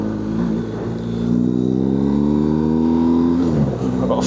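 Four-wheel drive BMW car creeping at about two miles an hour over a small speed hump, a steady close engine drone with rising harmonic tone, ending with a faint bump and rattle.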